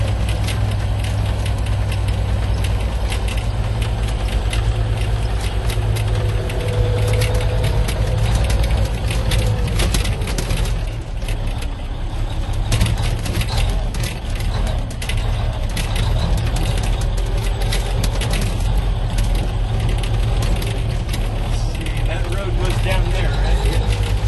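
A 1973 Kenworth dump truck drives along, its diesel engine a constant low rumble with rattles and knocks, loud inside the cab as it works around a corner, someone talking over it at times.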